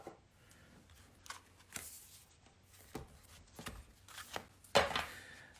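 Cards shuffled and pulled from a deck, with soft riffling and flicking bursts scattered across a quiet room, ending in a sharper snap as one card is drawn.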